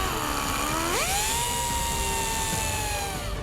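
A Cornwell CAT540RG right angle pneumatic die grinder runs steadily at high speed, its whine rising in pitch near the start and then holding a constant shrill tone, close and alone.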